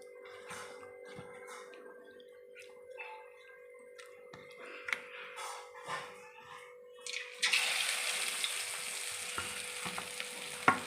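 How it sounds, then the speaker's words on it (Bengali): Marinated katla fish slid one by one into hot oil in a wok, bursting into a loud, steady sizzle that swells midway and holds, with stirring and clattering sounds close by before it. "এখানে ম্যারিনেট করা মাছগুলো এবার আমি কড়াই একটা একটা করে ছাড়বো"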